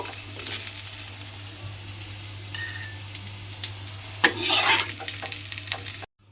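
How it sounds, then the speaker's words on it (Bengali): Potato pieces frying in hot oil until reddish, a close, steady sizzle over a low hum, surging into a louder crackling burst partway through before cutting off. "আলুটা আমার এখানে লাল করে ভাজা হয়ে গেছে।"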